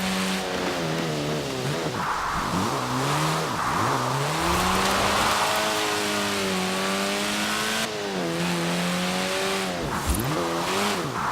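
A 1960s Lotus Elan sports car in Forza Horizon 4, its engine rising and falling through several gear changes with a rasping, revving note, close and continuous, with light tire squeal.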